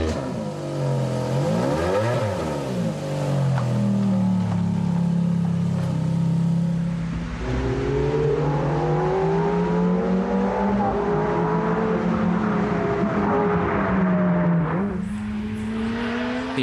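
A Ferrari F430 with its V8 engine driving on a track, revving and shifting through gears with rising and falling pitch, loud and continuous, with a strong engine note and no talking.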